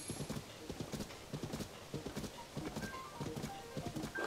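Horse galloping in The Legend of Zelda: Tears of the Kingdom, a rapid, steady rhythm of clip-clop hoofbeats, fairly quiet, with soft game tones and a faint whinny-like sound over the gallop.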